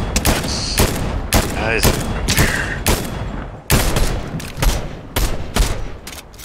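Video game gunfire cracks out loud and close in rapid, irregular volleys, with full-auto bursts and scattered single shots, while a player speaks briefly between shots.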